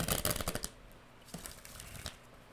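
Tarot cards riffled and shuffled by hand, a dense burst of papery flutters at the start followed by a few softer, scattered card slaps and rustles, close and fairly quiet.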